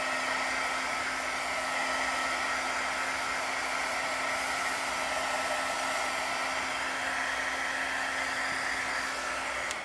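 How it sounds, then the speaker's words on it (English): An old heat tool drying Brusho paint on a card, a steady, loud, close blowing whir with a constant motor hum, unbroken for the full length. "So we're getting the heat tool going. We're literally just going to dry this."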